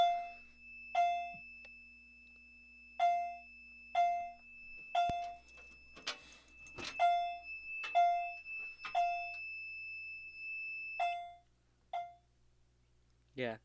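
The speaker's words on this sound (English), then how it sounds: "it's honestly one of the quietest alarms in my collection" A fire alarm gives short, soft, evenly spaced beeps with a steady tone underneath. A person talks between some of the beeps.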